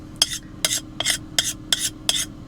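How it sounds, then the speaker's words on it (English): A metal spoon scrapes repeatedly across a pan, six short rasping strokes in an even rhythm, close and fairly quiet with no talking. "Sorry about the scrapey noise."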